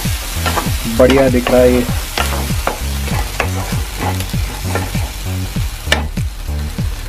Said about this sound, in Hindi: अब ये देखो टमाटर जो मैंने आपको बताया था, इसमें मैंने अदरक जो है वो काट के ग्राइंड कर लिया था पहले ही, तो अब ये मैंने इसमें मिक्स कर दिया